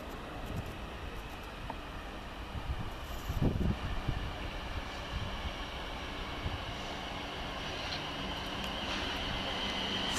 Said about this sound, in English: Just coming in, the 11 o'clock Southwest train service from Poole to London Waterloo.